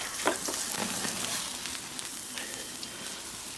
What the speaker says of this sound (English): that's probably seared enough